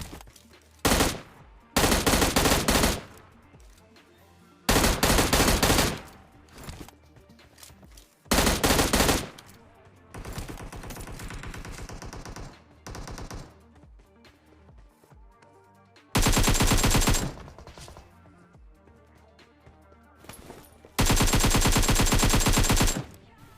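Loud bursts of automatic rifle fire from AKM and M16 weapons in a battle royale video game, several long sustained volleys separated by quieter gaps, with no talking.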